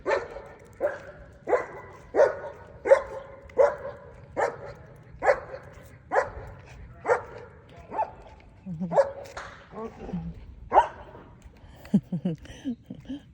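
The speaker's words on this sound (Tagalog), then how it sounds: "May aso na ano. German Shepherd." A German Shepherd barks repeatedly in a steady rhythm, about a dozen loud, deep barks, with some faint whimpering and voices toward the end.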